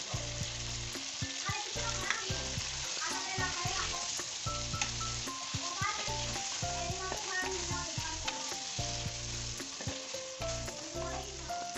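Garlic-ginger paste frying in hot oil with chicken in a handi pot, a loud continuous sizzle with crackling bursts and stirring scrapes throughout.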